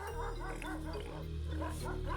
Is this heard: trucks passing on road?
no